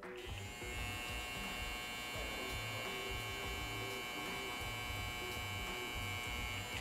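A Wahl Kuno electric hair clipper switches on and runs with a steady, close, bright motor buzz and hum, unbroken for several seconds with no talking.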